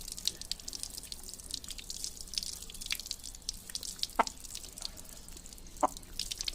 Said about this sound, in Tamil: ஐயோ இப்போ தண்ணி வரணுன்னு அப்படியே வந்து ஊற்றிட்டு போறேன்.